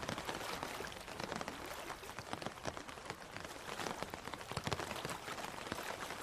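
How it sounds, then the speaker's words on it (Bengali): Heavy rain pours steadily at night over a river, a dense, continuous hiss with close spattering drops hitting the surface, loud and unbroken throughout with no voices. "আর সঙ্গে প্রবল বৃষ্টি আর বাতাসের শোঁ শোঁ শব্দ"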